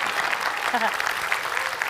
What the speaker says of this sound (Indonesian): Tapi tepuk tangan aja